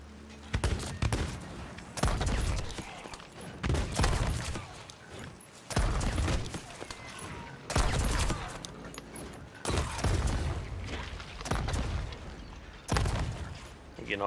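Gunfire against gold skeleton enemies in Sea of Thieves, loud booming shots recurring every couple of seconds with rumbling tails between, amid steady game ambience over about fourteen seconds.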